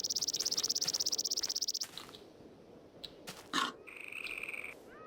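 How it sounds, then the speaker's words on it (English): A rapid pulsing trill from a frog-like creature in a Minecraft Tekkit modpack, then scattered odd chirps and a sustained tonal call, fairly quiet with no talking. "What the hell is making that noise?"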